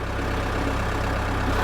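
A tractor engine running steadily while spreading across a large flat 43-acre field, a constant low droning hum without voices.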